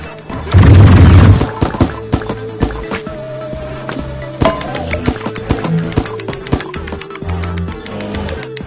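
A pistol fires in the VR game Sugar Mess, starting with a loud crashing impact and then a fast, irregular string of sharp synthetic shots and cartoonish hits.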